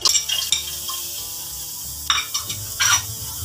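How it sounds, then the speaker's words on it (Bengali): Chopped onion and garlic hit a pan in a village Bengali kitchen, giving short bursts of sizzling mixed with the scrape and clink of a utensil stirring against the pot, close and uneven. "আমরা প্রথমে পেঁয়াজ আর রসুন কুচি দিয়ে দিচ্ছি।"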